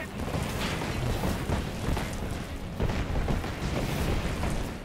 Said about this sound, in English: Their artillery's targeting you.